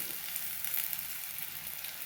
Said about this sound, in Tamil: நல்லா வதக்கி விட்டுடலாம்.